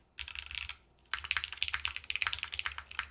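Fast typing on an Etar87 mechanical keyboard, dense close clacking in two bursts split by a short pause, some keys ringing with a slight resonance, heard alone.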